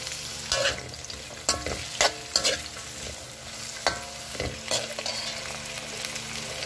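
String beans cook in a pan with coconut milk alongside squash for a ginataang tilapia, giving a steady close sizzle broken by repeated scraping stirs of a utensil against the pan.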